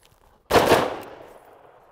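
Rifle fire during a tactical doorway sweep, one sudden loud burst of shots close together followed by a long ringing decay into silence.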